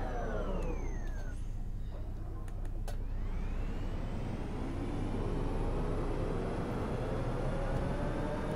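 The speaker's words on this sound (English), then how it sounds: "the bus sounds quite loud" A loud OMSI 2 bus engine on the Bowdenham Arriva Route 63 drones steadily throughout, its pitch rising smoothly as the bus accelerates, with no talk over it.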